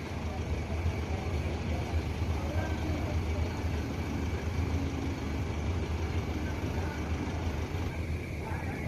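A yellow Yuanda Prima intercity bus bound for Palembang pulls out of the Barisolo terminal, its engine a steady low rumble alongside nearby traffic noise and a voice talking throughout.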